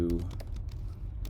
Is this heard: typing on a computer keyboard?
yes